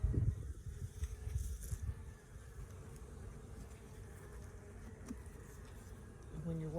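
Honeybees swarm and buzz around an open hive during spring beekeeping in Southeast Alabama, a steady close insect drone with a few brief voices underneath.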